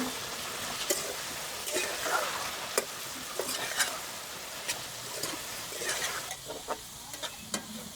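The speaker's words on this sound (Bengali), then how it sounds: "সমস্ত সবজিটাকে দেখুন খুব সুন্দর করে ভেজে নিয়েছি" Vegetables with fried prawns, for a dish of elephant-foot-yam stalks with jackfruit seeds, fry in a pan with a steady sizzle, broken by repeated sharp scrapes and knocks of a spatula stirring, close and alone.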